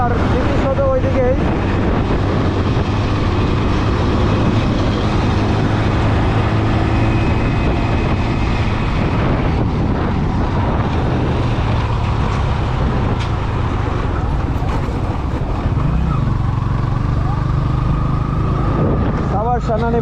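A Suzuki Hayate EP-110 motorcycle rides along a road through Savar Cantonment, its engine droning steadily for the whole stretch under heavy wind buffeting, with passing traffic noise around it.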